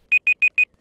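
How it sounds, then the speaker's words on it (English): Four loud, evenly spaced electronic beeps sound in quick succession during a video game match, each a sharp pure tone with short silences between. "I hear a very loud beeping. Is that ominous?"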